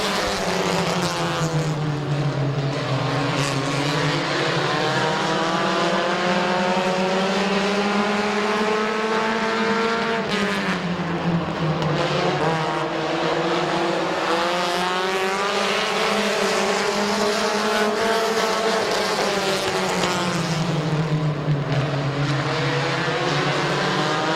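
Compact race cars at Midvale Speedway in 2017 roar continuously as several engines rise and fall in pitch together while the pack laps the track.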